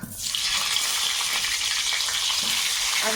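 Potatoes hit hot oil in a wok and set off a sudden loud, dense sizzle that holds steady and close for a few seconds, with no one speaking.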